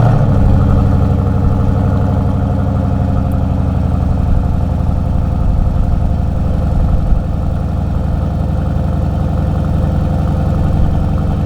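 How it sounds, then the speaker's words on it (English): A Dodge Durango SRT with factory exhaust runs just after a cold start, a loud, steady, deep rumbling idle held unbroken at close range with no voices. "let's do a cold start on the Durango SRT"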